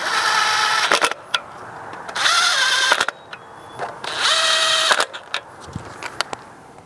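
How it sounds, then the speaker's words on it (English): Power tool on a Honda Civic 1.8L engine driving bolts down in several whirring bursts that rise in pitch as each bolt tightens, with clicks and handling noises between them. "Then put the bolts in. Tighten them all down."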